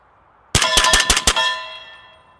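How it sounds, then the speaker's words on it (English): Rapid string of five suppressed shots from an AR-type semi-automatic rifle fitted with a Yankee Hill Phantom 30 caliber silencer, firing subsonic 208 grain Hornady AMAX rounds; sharp close cracks in quick succession with a short ringing tail. "Let's do some shooting."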